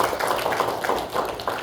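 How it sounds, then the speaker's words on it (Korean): A church congregation applauds, a dense burst of many hands clapping together that holds steady and fairly loud, heard alone without talk. "우리 다시 한번 더 박수로 감사합니다"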